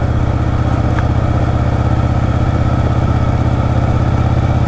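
A 1997 Yamaha Virago motorcycle cruises along a street at night with a loud, steady engine drone and pulsing exhaust, recorded close to the bike.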